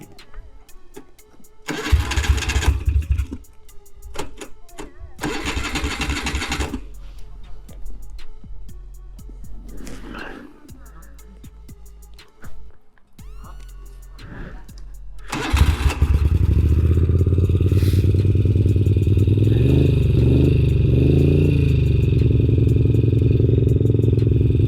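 A 1980 Moto Guzzi V50 II motorcycle on choke: short bursts of cranking and brief catches with clattering between, then the engine fires and settles into a steady, loud, close idle; a voice speaks briefly in between.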